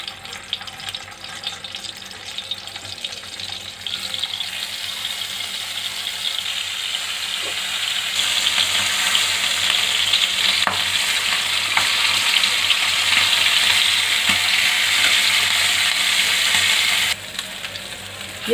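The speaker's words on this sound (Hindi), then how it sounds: "तेल गरम हो चुका है, इसमें चिकन के पीसेस हम डाल देंगे।" Chicken pieces frying in hot oil in a pan for Bukhara-style rice, a loud continuous sizzle with stirring clatter that grows stronger midway, no voices.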